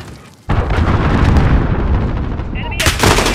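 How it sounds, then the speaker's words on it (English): A cruise missile strike in Call of Duty: Modern Warfare, a sudden loud blast opening into a sustained roaring rumble of explosions and gunfire, close and dense, ending in a sharp bright burst. "Allied cruise missile away."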